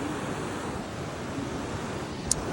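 Sea waves washing onto a beach, heard as a steady, broadband surf wash with some wind noise on the microphone; continuous and fairly loud throughout, with no talk.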